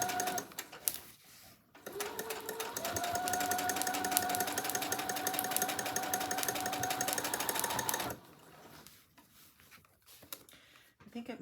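A sewing machine back stitches and then runs a straight seam down the edge of a black and white journal cover, a loud, steady motor whir with a rapid needle rhythm that starts after a brief pause and stops near the end.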